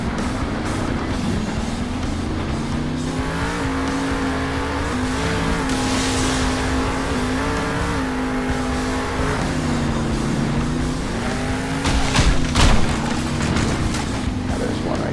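Monster truck engine droning and revving in Monster Jam Steel Titans 2, a steady loud motor hum with shifting pitch and some tire rumble, with a voice talking over it.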